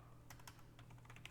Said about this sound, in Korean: 오늘 타자가 안 쳐지네.